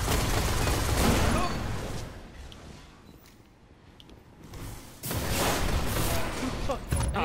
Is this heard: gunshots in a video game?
yes